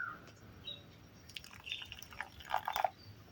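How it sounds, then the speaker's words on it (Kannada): Warm water poured onto dry Royal Canin kibble for a golden retriever puppy, heard as a faint trickle and a few soft drips and splashes close by, building slightly toward the end, with no speech. "ಈ ಫುಡ್ ಏನಿದೆ ಇದಕ್ಕೆ ಸ್ವಲ್ಪ ಬಿಸಿ ಮಾಡ್ಕೊಂಡಿರೋಂತಹ ವಾಟರ್ನ ಹಾಕ್ತೀನಿ"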